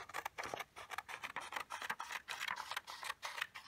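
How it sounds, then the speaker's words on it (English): Scissors snip through sheets of paper, cutting them into thin strips for a paper ruff: a quick run of crisp, close, repeated cuts with short pauses, no talking. "you're going to want to take your pieces of paper and you're going to want to cut them"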